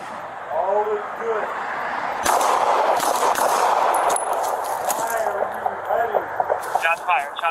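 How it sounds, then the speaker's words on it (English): Gunshots fired at sheriff's deputies, a sharp burst of loud reports cutting through radio-style chatter, with voices talking over the noisy scene throughout. "Shots fired. Shots fired."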